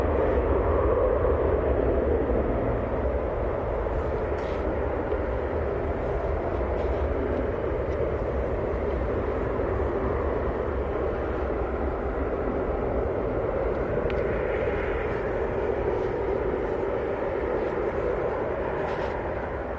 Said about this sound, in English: Can see the Qatar Airways taxiing out in the distance as well.